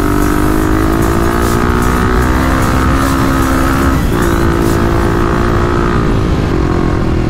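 A 35-horsepower Kawasaki KLX351 dirt bike runs hard across sand dunes, its engine droning loud and steady throughout, dipping briefly with a gear change before pulling strongly again.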